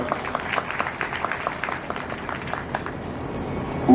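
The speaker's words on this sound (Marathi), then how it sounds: "एकदा सगळ्यांसाठी मोकळ्या मनानं तुम्ही टाळ्या वाजवा" Dense, steady audience applause at a crowded memorial tribute gathering with singers and instrumentalists present, many hands clapping at once for about four seconds before fading slightly toward the end.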